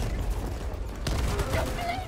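Bursts of rapid gunfire rattle in Helldivers 2 during a squad firefight, several sharp overlapping shots mixed with game noise and faint players' voices.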